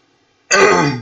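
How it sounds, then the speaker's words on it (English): A single loud, close throat clearing that bursts in after half a second of near silence, rough and raspy, lasting about half a second. "drinking water a lot helps with the cough"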